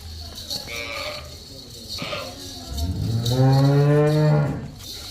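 A large cow lets out a long, loud moo up close on a dairy farm, after softer animal sounds and brief background voices.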